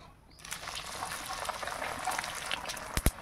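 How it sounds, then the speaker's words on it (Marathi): Kothimbir vadi, Maharashtrian coriander fritters, frying in hot oil: a soft steady sizzle and bubbling that starts after a quiet moment, with a couple of sharp clicks near the end. "या तेलामध्ये आपण ह्या वड्या सोडून 2 ते 3 मिनटं आपल्याला ह्या वड्या तळायला लागतात"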